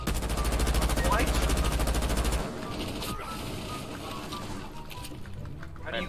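Rapid automatic gunfire in Rainbow Six Siege rattles hard for a couple of seconds, then scattered distant shots and thuds follow, with game-like effects in the background.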